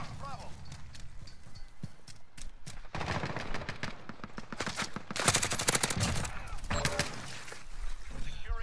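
Modern Warfare video game gunfire, dense rapid bursts from automatic weapons growing louder and more intense midway, with a person talking over the shooting.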